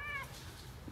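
A single short cat meow, fairly faint, rises and fades within a second against a low background hum.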